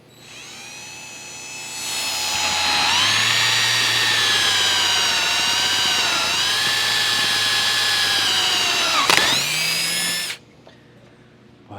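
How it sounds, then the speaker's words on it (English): A pneumatic riveting tool sets a rivet in a sheet metal dust pan, winding up to a loud, steady high whine that holds for about eight seconds before a sharp snap and sudden cutoff, close by with no speech. "Let's get our second rivet in here."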